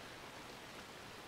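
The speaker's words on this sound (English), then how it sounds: "we gotta go skill crazy in a Lexus LFA whilst it's raining" Rain falls during a race in the video game Forza Horizon 2 while driving a Lexus LFA; a faint, steady hiss of rainfall runs evenly throughout with no voices.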